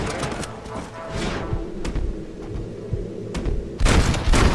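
Game gunfire from the Red Dead Redemption elk hunt on PS4: a few sharp, loud shots ring out, with a heavier burst of reports near the end, over outdoor ambience.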